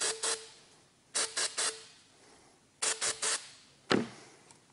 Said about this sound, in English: Simply spray the inside of the fitting.